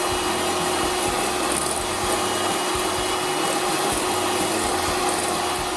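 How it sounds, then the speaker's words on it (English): An electric mixer beats egg yolks with creme fraiche for a Mont St Michel omelette, a continuous loud motor whir with a rough churning texture throughout. "we continue to beat the egg yolk"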